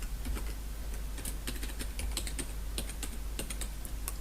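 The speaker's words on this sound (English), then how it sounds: "I'm going to go ahead and type in my password." Someone types a password on a computer keyboard, a close, rapid patter of light plastic key taps in uneven bursts over a low steady hum.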